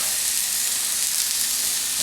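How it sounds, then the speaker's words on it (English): A block of 80-20 ground beef sizzles on a flat-top griddle, a steady, bright, close hiss with no talking. "Sizzle me tender."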